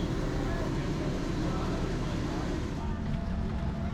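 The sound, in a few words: airplane jet engine under the wing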